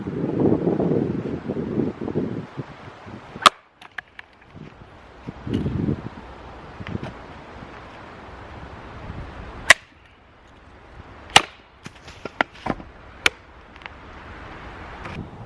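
A Schrade SCHF45 or SCHF48 knife chops into wood outdoors with a handful of sharp, separate thwacks spaced a few seconds apart, set against wind noise and soft rustling.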